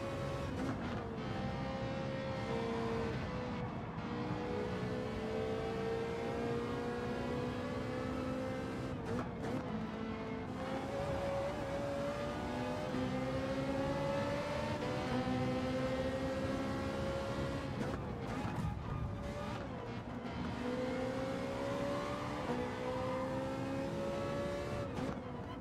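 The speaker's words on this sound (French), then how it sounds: "Une petite Ferrari 458 Italia, là," A Ferrari 458 Italia engine in the Gran Turismo racing game drones steadily throughout, shifting pitch as the car accelerates and changes gear, loud and continuous with no talk over it.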